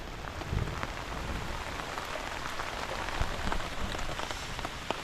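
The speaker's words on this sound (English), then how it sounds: "And heavy rain." Heavy rain pours down steadily in a forest, a dense hiss of drops striking surfaces, close and continuous with a few louder individual splashes.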